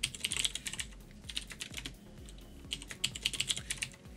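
Someone types a password on a computer keyboard during an OpenVPN install on OpenMediaVault 5 with Docker, giving a quiet, close run of quick key clicks in short bursts with brief pauses.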